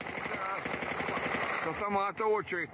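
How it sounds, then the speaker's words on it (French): Rapid bursts of automatic gunfire crackle continuously and loudly, firing at an aircraft during a Ukrainian attack on Russian air bases, then give way to excited voices talking near the end. "On entend des tirs d'armes automatiques qui cherchent à l'abattre."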